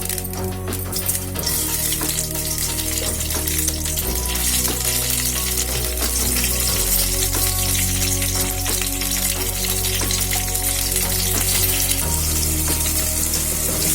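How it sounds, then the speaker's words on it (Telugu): Cut ripe red chillies frying in two spoons of oil in a kadai, a dense continuous sizzle and crackle with a steady low hum underneath, close and loud throughout, no speech. "ఇప్పుడు 2 స్పూన్లు ఆయిల్ వేసుకుంటున్నాము. ఇప్పుడు ఈ పండు మిరపకాయల్ని ఇలా కట్ చేసుకుని వేసుకోవాలి"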